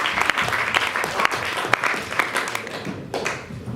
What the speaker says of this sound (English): So that's a round of applause.